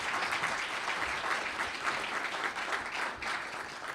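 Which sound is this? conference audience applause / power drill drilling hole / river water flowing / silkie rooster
conference audience applause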